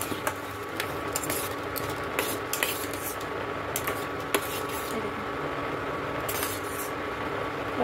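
Metal utensil scraping and clinking against a pan as food cooks in mustard oil, with steady soft sizzling underneath and a few sharp taps, close and moderate in level.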